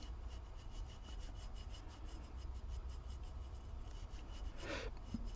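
A dry paintbrush lightly scrubs acrylic paint onto a textured surface, a faint steady rhythmic brushing and rubbing with one brief louder scrape near the end.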